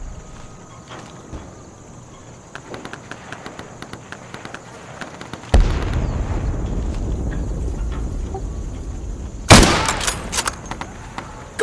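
Gunfire in the tactical shooter game Insurgency: two sharp, loud shots stand out, one midway through and another near the end, over quiet rumbling game ambience and occasional voices.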